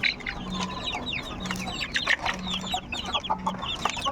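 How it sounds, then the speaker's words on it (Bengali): Morning clucking from a flock of farm chickens kept for hatching eggs, a busy chorus of short repeated clucks and calls close by with a low steady hum underneath, no talk. "সকাল সকাল চলে আসলাম মুরগির কাছে।"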